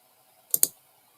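Two quick, crisp computer mouse clicks in close succession during video editing in Magix Movie Editor, sharp and near against an otherwise quiet room.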